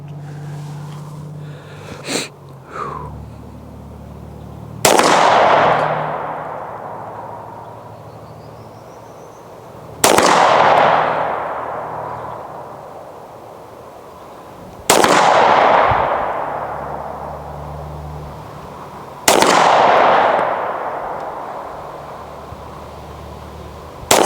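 A small .25 caliber Cabot pistol fires four single shots at about five-second intervals, each a sharp, loud crack followed by a long ringing decay, with faint background noise between.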